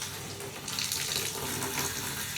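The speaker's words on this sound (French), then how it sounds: "j'allume l'eau, je prends le pommeau de la douche, ça coule" Water from a shower head pours steadily into a trumpet being cleaned, a broad continuous rushing splash that swells slightly partway through, with no talking.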